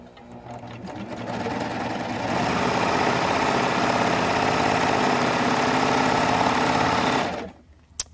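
A sewing machine stitching a wide cover hem, a fast steady mechanical whir that ramps up, runs continuously for several seconds, then stops abruptly, loud and close with no talk.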